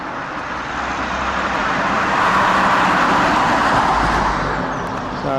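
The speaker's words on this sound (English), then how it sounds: "every time I seem to set the camera going there's loads of traffic" A vehicle passes along a narrow country lane through a village, its road roar swelling loud and close mid-way and then easing off, alone without talk.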